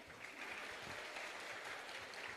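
An audience applauding at an Indonesian school-orientation launch event with scholarship recipients, a soft, distant, continuous patter of clapping heard alone.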